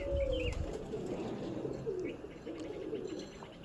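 Pigeons kept by a fancier giving soft, low cooing in a faint, steady murmur against background noise, with a few brief higher calls.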